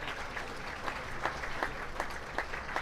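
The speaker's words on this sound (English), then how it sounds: "Put your hands together for this group of showmen." Audience applause at a 4-H meat goat show, a steady patter of clapping from a modest crowd in an arena, fairly faint and without talk.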